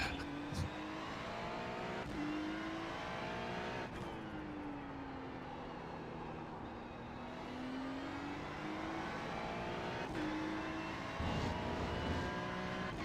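A Corvette race car engine in the iRacing video game drones steadily throughout at Algarve International Circuit, its pitch rising and falling with gear shifts, loud and continuous with no talking over it.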